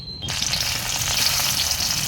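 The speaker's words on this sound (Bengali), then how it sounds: "ফোড়নের জন্য কড়াইয়ের মধ্যে সরষের তেল দিয়ে দিয়েছি।" Mustard oil sizzles steadily in a kadai for tempering, a dense, close frying hiss that swells up after a brief quieter start and holds evenly to the end.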